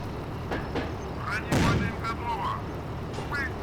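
A T-50 light tank's cannon fires in Steel Fury, a single heavy boom that rings out amid the steady rumble of the engine, while someone talks over it.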